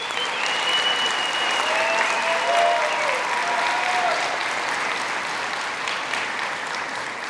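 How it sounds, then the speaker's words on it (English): A high school graduation audience breaks into sustained, dense applause, loud and even from start to finish with no speech over it. "give them a round of applause"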